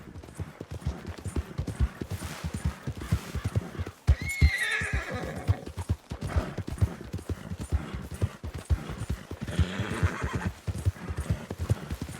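A horse's hooves clatter in a rapid, steady gallop throughout, with a loud neigh breaking through around the four-second mark and another whinny near ten seconds, in the Red Dead Redemption II game world.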